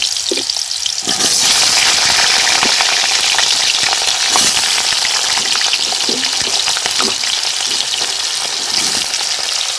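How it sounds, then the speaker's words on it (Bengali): Potatoes frying in a little oil give a loud, close, constant sizzle and crackle, with occasional stirring scrapes and no talk. "আলুগুলো ভাজা করে নেব"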